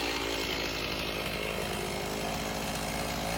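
A chainsaw engine roars steadily and loudly up close, its buzzing drone unbroken as the chain cuts horizontally into a log.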